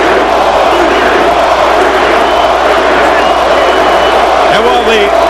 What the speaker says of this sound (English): the sellout crowd chants Cory, Cory